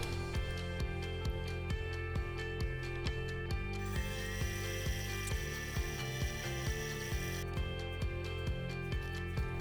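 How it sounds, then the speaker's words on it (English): A small rotary tool cuts excess burl wood from a coin ring made from a Morgan dollar, giving a steady high-pitched whine with rapid rhythmic ticking and a brief harsher grinding stretch in the middle, fairly faint. "Now what we're doing is cutting out the excess wood in there and get it to our final size"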